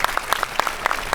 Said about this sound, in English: one more round of applause for the world building and artisan here